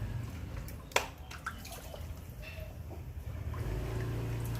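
Water sloshing and splashing during a pet's bath at home, with a sharp splash near the start and then a low, continuous running-water wash close by.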